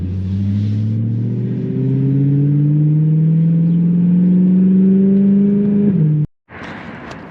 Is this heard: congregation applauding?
no